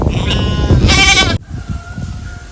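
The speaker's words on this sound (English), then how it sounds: "Well, we got these goats." Goats on a farm bleat loudly and close by, a single long wavering cry followed by a second, thinner call.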